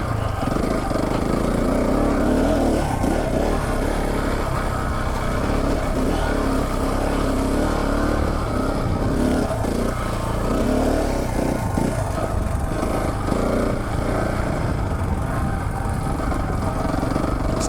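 A KTM 690 Enduro dual sport motorcycle carrying luggage rides along a mountain route in Canada, its single-cylinder engine droning loud and steady throughout with rough throttle variations and wind buffeting.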